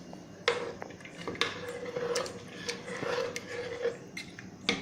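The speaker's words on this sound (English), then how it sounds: "you just put the garlic with all that paste inside it, and then just stir it a little bit gently" A spoon stirs garlic paste gently in a cooking pot for lal maans, an Indian meat dish, making light metallic scrapes and small clinks in an uneven rhythm, close up and fairly quiet with no voices.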